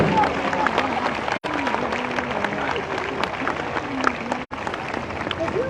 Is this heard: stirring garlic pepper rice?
no